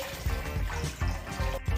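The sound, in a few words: water being poured into a ramen pot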